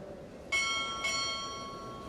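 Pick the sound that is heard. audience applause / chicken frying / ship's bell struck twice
ship's bell struck twice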